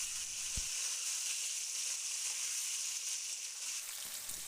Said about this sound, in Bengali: চিকেনটাকে ভালো করে ভেজে নিতে হবে